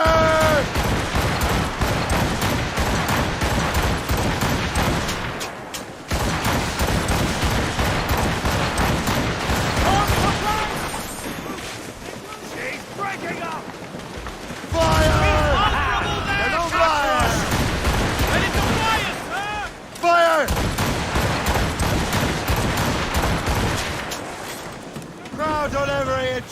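Ship cannons boom repeatedly during a naval battle in the video game Assassin's Creed Rogue, loud volleys mixed with wind, sea and battle noise while voices shout over them.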